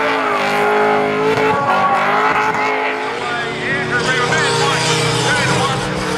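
Drift cars, including the Red Bull Mazda RX-8, battle at a D1NZ round at Hampton Downs with loud, continuous engine roar and squealing, skidding tires under a commentator's voice.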